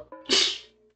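A single sharp sneeze, close and fairly loud, preceded by a brief intake of breath and trailing off quickly, heard while playing the game OMORI.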